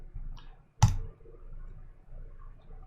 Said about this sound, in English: So we went ahead and clicked send